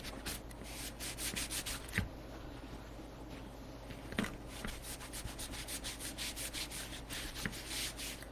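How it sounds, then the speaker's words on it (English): Material rubbed by hand onto a stencil on a wooden leash holder, a quiet continuous scrubbing with a rhythmic back-and-forth texture and a few small taps. "I'm just gonna rub it on there and try to make sure I hit all the spots."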